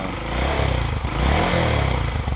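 A Honda Monkey 125 motorcycle engine with an aftermarket TB Parts exhaust idles with a low rumble, then revs up briefly a couple of times before settling, close and steady with no talking.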